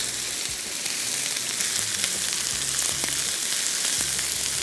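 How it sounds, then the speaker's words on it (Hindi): Chopped ginger and garlic sizzle and fry steadily in hot oil in a pan, a close, continuous crackling hiss with no talking. "ऑयल जैसी गर्म हुआ, इसमें सबसे पहले हमने शामिल किया चॉप किया हुआ अदरक और चॉप किया हुआ लहसुन"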